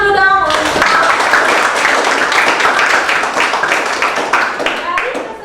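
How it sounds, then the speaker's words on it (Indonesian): Classroom applause after a student group presentation: a sustained round of clapping from many hands, loud and steady, with children's voices mixed in as it begins. "Tepuk tangan dulu dong."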